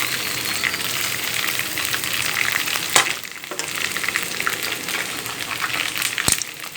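Ginger-garlic paste sizzles and spits as it lightly browns in a frying pan, a continuous close hiss broken by a couple of sharp stirring scrapes.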